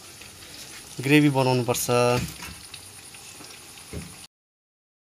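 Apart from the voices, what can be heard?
chicken frying in a pan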